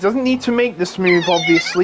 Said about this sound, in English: That is my cat being annoying.